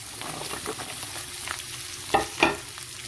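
Garlic sizzles in hot oil in a pan while being stirred, a close steady frying hiss with a couple of brief clinks from the utensil; no talk.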